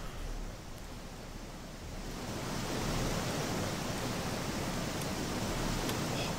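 A waterfall in the game Gothic 2 roars as a steady, dense rush of falling water, swelling louder after the first couple of seconds and holding on unbroken.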